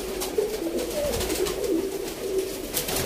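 Pigeons kept by a fancier in Sialkot coo steadily, low rolling calls repeating over a constant background hiss, fairly close and without any talk.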